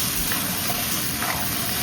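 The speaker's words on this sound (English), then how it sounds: "We're going to stir fry the lobster." Lobster stir-fries in a pan with olive oil and minced garlic, giving a dense, continuous close-up sizzle with faint voices in the background.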